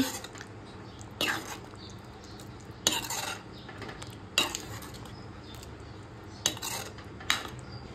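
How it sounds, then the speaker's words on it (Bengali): Chana masala with chopped coriander being stirred in a pan: a few sharp metal clinks and scrapes of a spoon against the pan over a quiet background, spaced a second or two apart, with no voices. "দিয়ে একটু ভালোভাবে নাড়িয়ে নিচ্ছি"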